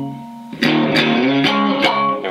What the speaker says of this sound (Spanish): para que veamos la distorsión un rato más